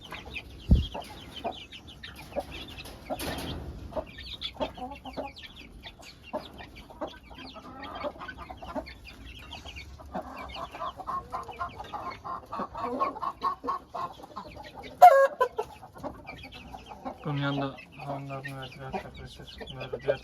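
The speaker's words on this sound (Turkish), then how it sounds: "tavuklar eşleşiyor orada" Chickens cluck and murmur on and off at close range, with a louder squawk partway through and quiet movement between calls.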